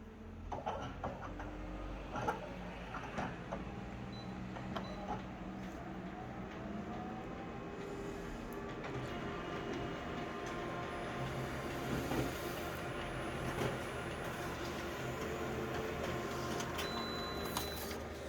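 A photocopier runs a copy of a tiny crushed, ripped piece of can with the document feeder left open, producing a steady mechanical whir and hum that holds evenly throughout, faint and continuous with occasional light clicks.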